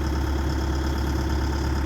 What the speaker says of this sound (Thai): รอบเดินเบาครับ